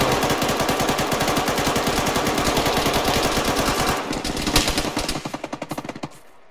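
Video game tank battle gunfire, a loud continuous burst of rapid automatic shots that thins into slower, separate bangs near the end.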